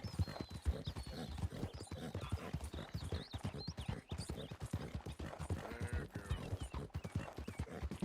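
Steady clip-clop of horse hooves from Red Dead Redemption 2, a continuous trotting rhythm that runs loud and close for the whole stretch, with an occasional faint whinny and no talking.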